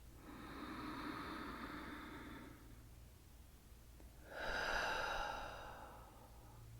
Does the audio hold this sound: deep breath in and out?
yes